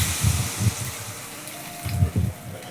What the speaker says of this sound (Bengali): এবার আমি এর মধ্যে ঝোলের জন্য যেটুকু জল দরকার সেটা এবার দিয়ে দেবো